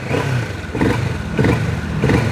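A Kawasaki Vulcan 650S motorcycle engine (2019) revs up and drops back several times in quick bursts, steady and fairly loud, with a rough idling rumble between the rises.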